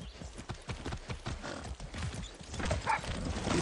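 Horse hooves clip-clop in the video game Far Cry 6, a quick run of repeated hoofbeats, close and fairly loud, with a few brief higher tones near the end.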